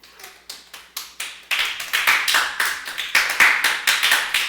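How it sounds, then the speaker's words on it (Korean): Rhythmic group clapping at a church summer Bible school, starting with a few separate claps, then swelling into a loud, steady beat of hands clapped together in unison. "박수."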